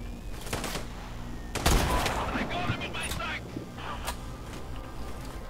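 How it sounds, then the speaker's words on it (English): Enemy gunfire in Sniper Ghost Warrior 3: bursts of rapid shots crackle and boom in short volleys, some sharp and close, others echoing farther off amid game ambience. "stop shooting at me"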